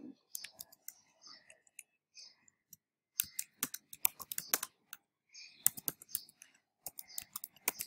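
Typing on a computer keyboard while editing a hosts file, with irregular bursts of close, sharp key clicks separated by brief pauses and no speech.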